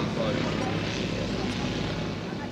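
A one-third scale radio-controlled Avro 504 WW1 biplane with a Roto 170cc flat-four petrol engine drones steadily overhead, a continuous, fairly loud propeller hum with no breaks across the short stretch.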